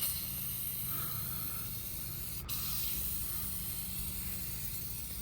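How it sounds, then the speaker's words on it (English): Meguiar's Hot Shine foam tire shine sprayed from an aerosol can onto a car tire, a continuous close hissing spray with a brief break midway, no talk. "Now let's put some tire shine. Got my Hot Shine foam Meguiar's."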